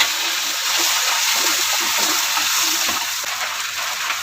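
Canned sardines poured into a cooking pot with fried shallots, giving a steady wet gushing and sizzling hiss that runs continuously at close range, fairly loud, with no talking.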